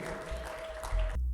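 Clapping and ululation from a church worship congregation praising Jesus, a brief dense burst of applause with a steady high trilling tone running through it before cutting off abruptly.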